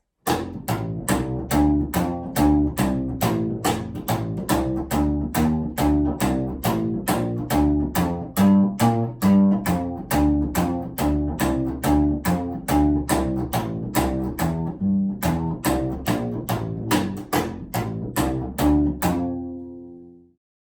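Double bass played in a fast rockabilly slapping style, a driving stream of percussive clicks mixed with low plucked notes forming a bouncy tune, ending with a ringing note.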